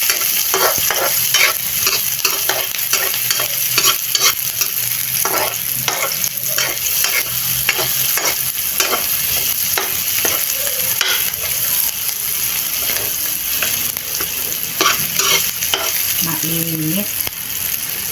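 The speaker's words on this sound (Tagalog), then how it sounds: "Lagay natin sa pag gisa." Eggplant and okra for adobo sauté in a hot pan with a loud, continuous sizzle, punctuated by repeated scraping strokes of a spatula stirring at a steady rhythm.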